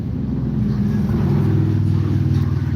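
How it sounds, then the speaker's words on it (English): A black and chrome Harley-Davidson Heritage full dresser motorcycle carrying two riders rolls past on a Sunday ride, a low, rumbling engine drone that swells steadily and holds loud throughout. "A black and chrome Heritage Harley."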